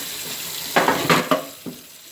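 Hot tap water runs into a kitchen sink in an apartment, a steady broadband rush with several brief louder splashes and surges as the stream hits the basin; no one talks.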